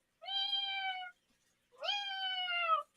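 A voice imitates a cat's faint meow, two drawn-out, whiny mews separated by a short pause, soft and clear with no other sound.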